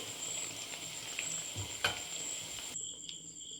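Chicken pieces fry in oil for chilli chicken, a soft steady sizzle with an occasional clink of a utensil, quiet and without talk.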